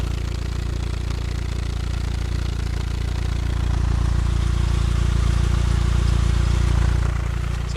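Mitsubishi Lancer Evo III exhaust idling steadily up close, a loud, continuous low rumble that swells slightly midway and holds an even, mellow tone throughout with no talking.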